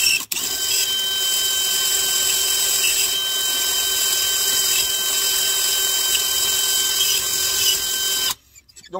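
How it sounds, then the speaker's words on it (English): A loud, steady high-pitched whine of a power drill boring a hole while making a tow hook, running continuously for several seconds, cutting off abruptly near the end. "You don't want to force your drill bit. Let it do the work."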